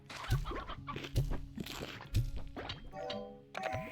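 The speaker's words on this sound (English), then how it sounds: "Oh, I got a chicken." Chickens in the video game Slime Rancher 2, a few soft clucks and squishy game sound effects at regular intervals, with a brief rising tone near the end and no talking.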